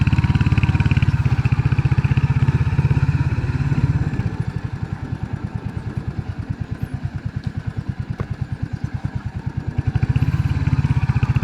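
A motorcycle rides along a wide, quiet road, its engine thrumming loudly up close in a steady pulsing beat that eases off midway and then swells again.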